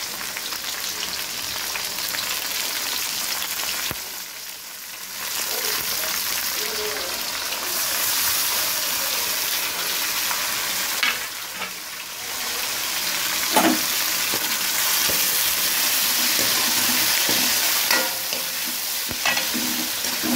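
Tomatoes fry in a pan while cooking idli upma, giving a steady, close sizzle with bubbling and occasional stirring scrapes that carries on without a break.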